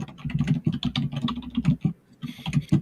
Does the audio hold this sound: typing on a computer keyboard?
yes